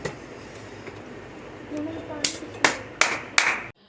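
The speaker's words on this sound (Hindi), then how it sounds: "अब हम करेंगे भगवान जी का जो है जगाएंगे ताली बजा के" Hand clapping at midnight to wake the deity during a Janmashtami home celebration: four sharp, loud claps in an even rhythm, rising out of low background murmur.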